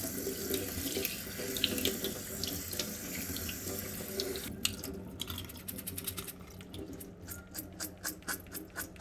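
Tap water running into a bowl to rinse rice in a home kitchen, a steady close splash and gurgle that later turns choppy and intermittent as the grains are swished, with no voices.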